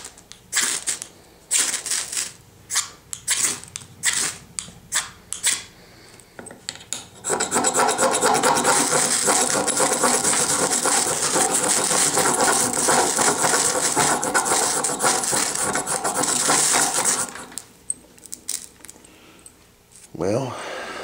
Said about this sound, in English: I may go through a whole freaking ferro rod here to light